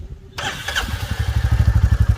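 A new Royal Enfield Bullet motorcycle fires up on its electric self-starter without any throttle: brief near-silence, then the engine catches and settles into a loud, close, steady thumping beat with no talking.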